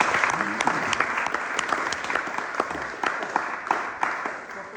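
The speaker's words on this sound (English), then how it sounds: "I would like all of you to give a huge round of applause." A council-chamber audience at a celebration of global Indians breaks into sustained applause, many hands clapping with sharp individual claps standing out near the front, while faint voices murmur underneath.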